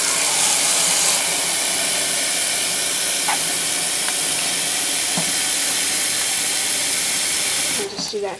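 Water from a hose rushes into turquoise plastic plant pots for carnivorous plants, a steady loud hiss that runs without a break and cuts off near the end.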